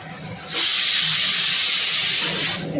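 Chunks of meat drop into hot oil, with only a little oil in the pan. A loud, steady hiss bursts in suddenly and holds close and even for about two seconds before easing slightly.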